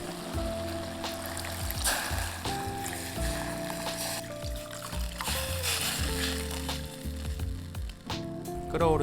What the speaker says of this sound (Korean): 불린 미역을 넣고 같이 볶아주다가 물 850ml를 넣고 끓여주세요.